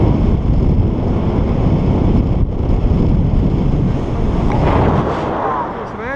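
Steady, loud wind roar buffets the microphone throughout a paragliding flight into a headwind along the sea coast, a dense rumbling rush with no pauses.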